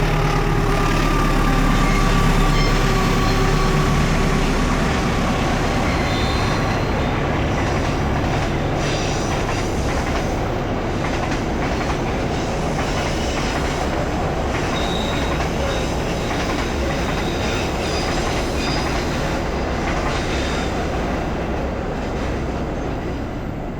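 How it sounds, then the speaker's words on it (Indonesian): The Sangkuriang executive long-distance passenger train passes a tiny station at Nagreg near Bandung, a loud continuous rumble with rail squeal and wheel clatter lasting the whole stretch. "Itu tuh barusan kereta eksekutif kereta api Sangkuriang."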